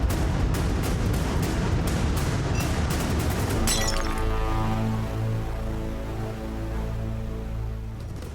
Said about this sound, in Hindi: इतनी गहरी नींद की इनको ये ग्लास टूटने की भी आवाज नहीं आई